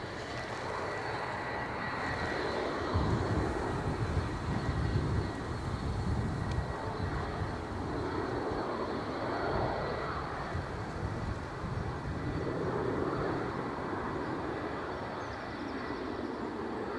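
A United Boeing 757 on final approach to Edinburgh Airport sends a sustained, broad engine roar across the airfield, holding steady and swelling slightly as the jet draws nearer.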